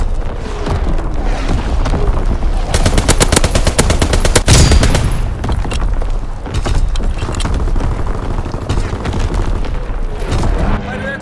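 Dense gunfire and artillery in Call of Duty: WWII during a Domination match on the Shipment 1944 map, loud sustained machine-gun bursts and heavy booms with in-game radio callouts over the battle.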